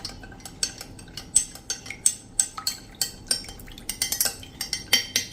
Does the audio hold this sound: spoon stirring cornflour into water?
yes